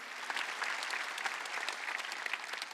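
A church congregation at a Wednesday worship service claps together in a dense, continuous burst with fine rhythmic texture, loud and sustained from start to finish with no voices on top.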